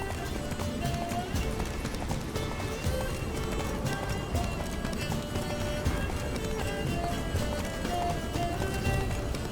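Roach, Geralt's horse in The Witcher 3: Blood and Wine, galloping at full speed with a fast, steady clip-clop of hooves and occasional neighs, loud and continuous, with game music and other sounds layered underneath.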